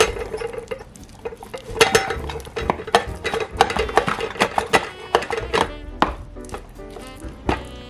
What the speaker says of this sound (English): So I just put the cooked lentils in the rice cooker.